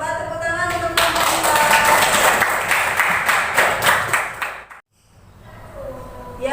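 A classroom of children claps for a presenting student group, a few seconds of lively uneven clapping that stops abruptly, followed by brief quiet and room sounds.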